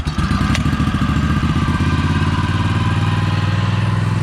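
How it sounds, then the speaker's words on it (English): A choked, throttled-down pull-start small engine catches on the first pull and settles into a loud, steady, close-up putter, with a brief clatter at the start. "Put it on choke, throttled it all the way down, first pull, cranked right up"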